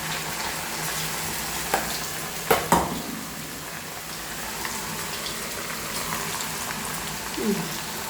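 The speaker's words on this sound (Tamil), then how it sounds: "ரெடி பண்ணி வச்சுக்கிட்டு 60 சிக்கனை இதில் போட்டுடலாம். எண்ணெய் சூடானது தான் போடணும்." Pieces of chicken 65 for chicken biryani sizzle steadily in hot oil, a dense, even frying hiss with a few sharper clacks and spatters partway through.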